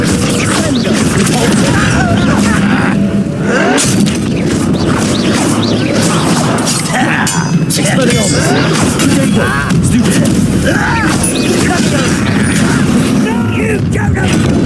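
A Confringo fire spell bursts in Hogwarts Legacy amid a loud, dense battle of booms, crashes and clanking impacts, continuous and close, with voices shouting over the fight.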